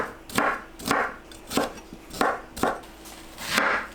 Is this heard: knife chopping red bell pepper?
yes